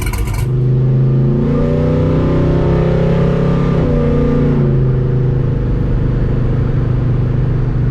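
An LS-swapped Chevrolet S10 pickup engine pulling away, a loud, steady low V8 drone with rising and falling pitch as it revs and accelerates, close and continuous with no talking.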